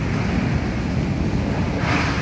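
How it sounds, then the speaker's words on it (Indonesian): Fast, high-volume current of the flooded Ciliwung river in Jakarta, a steady broadband rushing roar of churning water that holds loud and unbroken throughout, with no voices. "Terlihat arus Sungai Ciliwung nampak begitu kencang dengan debit air yang sangat tinggi."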